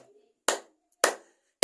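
Congregation at a Hindi evening prayer and healing meeting clapping in unison, three sharp, loud claps spaced about half a second apart with a faint voice before the first.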